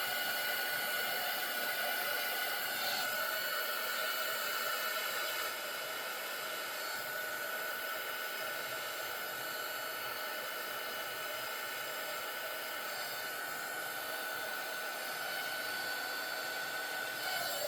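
A heat gun blows steadily and close while it is held over resin on diamond painting coasters. The hissing, hair-dryer-like rush is continuous and fairly loud, with no talk over it.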